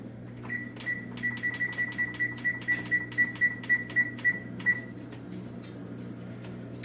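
A kitchen oven's control panel beeps as it is switched on and set to 425, a steady run of about fifteen evenly spaced electronic beeps followed by one last beep, over a low background hum with no talking.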